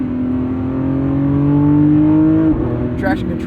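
A 2025 Lamborghini Revuelto, the 1,001 hp V12 flagship, accelerates on a morning commute, its engine note climbing loud and close into a high wail before a sharp shift or traction cut and brief crackle.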